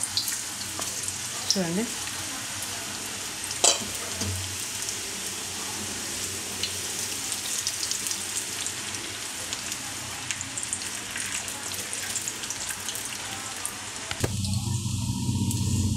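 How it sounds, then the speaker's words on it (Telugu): Onion pakoras sizzle in hot oil in a pan over a medium flame, a steady frying hiss with occasional clinks. It swells into a louder burst near the end as someone speaks briefly. "ఇది మంచిగా కాగిన తర్వాత పకోడీలు ఇలా వేసేసుకోవాలి."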